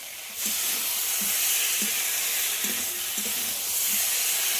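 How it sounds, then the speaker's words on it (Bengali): Cauliflower and potato frying with spices in a pan, a loud, continuous close sizzle beginning abruptly, with faint occasional stirring knocks beneath it and no voices. "মশলার সঙ্গে ফুলকপি আলু কিছুক্ষণ একটু কষিয়ে নিতে হবে"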